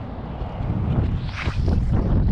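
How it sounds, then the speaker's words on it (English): A gust of wind buffets the microphone while someone casts a net for silver mullet from the water's edge, a rough low rumble that swells and grows louder toward the end. "it's like a gust of wind right when I threw it."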